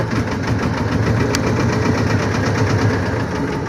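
Fishing boat engine at sea running after start-up, a loud steady knocking diesel chug with constant vibration and no pauses or talking.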